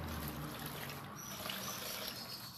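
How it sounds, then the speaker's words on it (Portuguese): Water trickles and falls steadily, a continuous broadband splashing wash at moderate distance and fairly quiet, with no talking. "Aí a água tá caindo."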